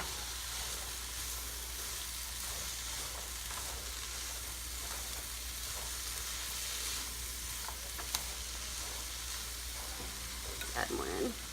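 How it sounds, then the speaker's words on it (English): Chopped green onions sauté in a hot pan, a steady soft sizzle running throughout with faint stirring clinks near the end. "Now we just want to saute these for like four minutes."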